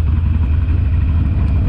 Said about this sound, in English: I hope you can hear me over the beautiful exhaust note of potato, potato, potato that comes off the Harley